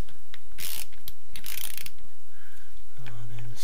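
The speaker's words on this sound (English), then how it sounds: "Gonna use the ratchet on that for the moment." A ratchet wrench loosens a tight bolt on Honda VFR800 engine crankcases during a rebuild, giving rapid close clicking bursts of the pawl in a few separate runs, loud and alone with no talk.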